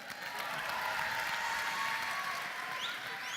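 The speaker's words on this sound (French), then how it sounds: "Applaudissements pour Warda" A large audience at the Grand Rex in Paris claps for Warda during a quiz show, a dense, fairly distant and even wash of applause that holds steady throughout.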